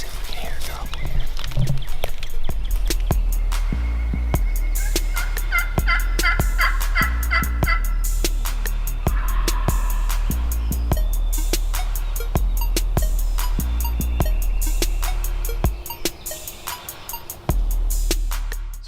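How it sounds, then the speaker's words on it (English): Wild turkey gobbles ring out on a family farm during a turkey hunt, sounding across a steady outdoor background with clicking and rustling nearby, while people whisper quietly close by. "Let's see if we can hear a gobbler here."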